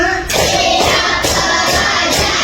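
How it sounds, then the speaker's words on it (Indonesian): Children in a third-grade primary classroom clap their hands together in a patterned class clap, a dense, continuous wash of many small palms close by, with accented bursts roughly every half second. "Tepuk 5."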